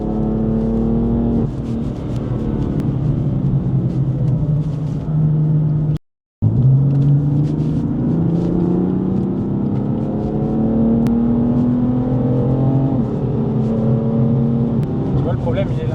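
A BMW M4 F82 engine pulls hard through the revs, its rising note climbing steadily, then briefly cutting out at a shift before surging and climbing again, loud and close throughout.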